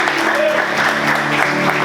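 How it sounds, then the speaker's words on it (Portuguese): Church congregation clapping loudly together during a worship service, a dense steady wash of applause lasting the whole moment with a voice faintly audible underneath. "Vamos aplaudir o Senhor bem forte."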